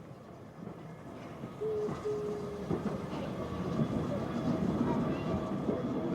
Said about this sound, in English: Pierhead Station, having 4 platforms from which we see a Ventnor-bound train departing